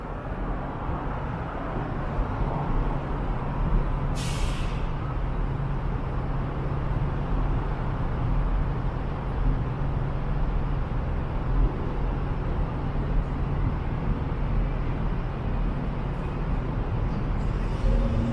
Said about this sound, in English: traffic congestion starts building up here as everyone's trying to get on and off of the Gardiner Expressway